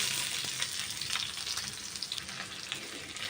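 Thinly sliced onions fry in oil with bay leaves and shahi jeera for bagara rice, a steady close hiss and crackle with occasional stirring clicks, and no voices.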